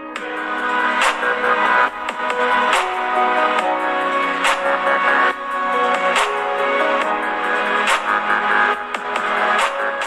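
Music plays steadily through the single bottom-firing speaker of a OnePlus Nord CE2 5G phone, full and bright with a busy, continuous mix and brief dips between phrases.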